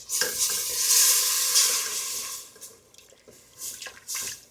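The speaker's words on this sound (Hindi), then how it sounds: "हमारा मैदा भुन गया है, अब हम इसमें थोड़ा थोड़ा करके दूध डालेंगे।" Milk is poured little by little into toasted flour roux in a pan for lasagna béchamel and stirred, giving a steady wet scraping and bubbling sizzle that rises and falls, close by, with no talking.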